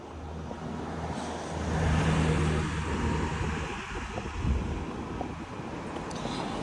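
A large, fast vehicle passes on a main road beside a horse being hacked out, a broad rushing roar that swells near the middle and then fades, with wind noise on the microphone.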